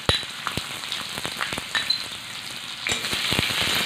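Chopped shallots frying in hot oil for a Kerala fish curry, a steady close sizzle with scattered sharp crackles and pops throughout, no voices.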